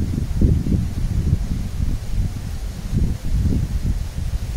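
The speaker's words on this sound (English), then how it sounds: "That's a bit windy." Steady low rumbling wind buffets the microphone in uneven gusts at a place called The Dungeon, loud and close throughout, with no voices.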